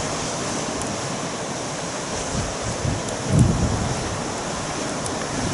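Steady wind roaring across a beach near Walton pier, with surf washing behind it and a few buffeting gusts against the microphone, loud and continuous with no voices.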